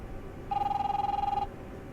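A telephone rings once in The Wolf Among Us, a single warbling electronic trill lasting about a second that stands out clearly above a quiet low background.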